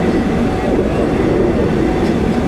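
A train passes a railway crossing that has a bamboo barrier, making a loud, close, continuous rumble for the whole moment.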